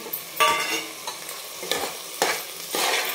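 Rasam rice masala being stirred in a hot pan, several distinct scraping strokes in an uneven rhythm over a soft sizzle, close and clear with no voices.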